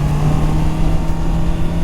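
A 2021 Honda CBR 650 R motorcycle engine runs steadily while riding in a high gear during break-in, a loud, even drone with a strong low hum and wind rush, no talking.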